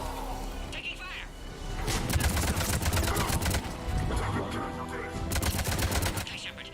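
Gunfire from the video game Mass Effect 3, with dense bursts of shots and rapid automatic fire running almost continuously, loud and close, over a low rumbling game soundscape with voices mixed in.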